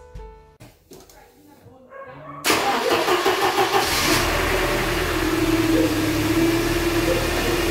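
A Mercedes car with KE-Jetronic fuel injection cranks briefly and its engine catches, then settles into a steady loud running roar after some quiet clicks and handling sounds at the start.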